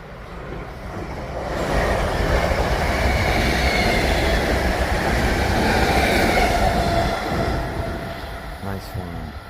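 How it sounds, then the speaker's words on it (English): A Royal Mail class 325 train approaches the platform at Lichfield Trent Valley station on the West Coast Main Line. Its heavy rumble and wheel noise swell, hold loud, then ease off, with voices faint in the background. "We have the Royal Mail approaching, the Royal Mail train obviously approaching, class 325."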